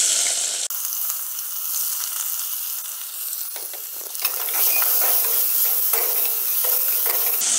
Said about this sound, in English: Now we'll add a bit of chopped onion.